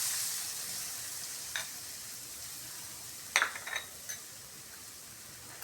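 Grated coconut cooking in a little soybean oil gives a steady, faint hiss, interrupted by a few soft scraping stirs spaced slowly apart.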